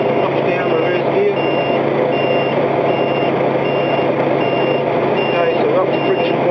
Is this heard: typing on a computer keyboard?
no